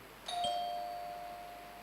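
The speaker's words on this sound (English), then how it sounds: "let me hear the bell from Pentecost University and that of UEW" A single bright bell tone struck once for a quiz contestant's answer in a university business quiz, clear and ringing with a long smooth decay and no talk over it.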